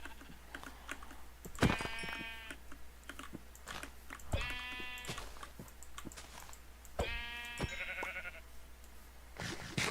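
Three distinct sheep bleats from Minecraft ring out, spaced a few seconds apart, each paired with a sharp hit sound, over a steady clatter of computer-keyboard typing.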